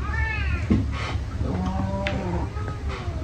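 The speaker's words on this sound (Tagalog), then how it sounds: "Kulit yung pusa mo" A pet cat meows during a home meal, its rising calls coming close and clear over low background hum and clatter, with a few brief sounds in between.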